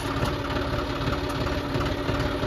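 A John Deere 5405 4WD tractor engine idles steadily up close, a loud low rumble with a fast, even knocking pulse and no voices.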